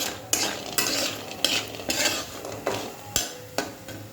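Cauliflower stalks being stirred and fried in a pan, with repeated sharp scraping strokes of a utensil against the pan every half second or so over a steady close sizzle.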